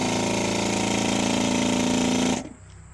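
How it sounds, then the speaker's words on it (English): An electric brake booster vacuum pump on a hot rod muscle car runs with its muffler fitted, a loud steady buzzing drone close by that cuts off abruptly near the end. "you'll hear the pump run with the muffler on it"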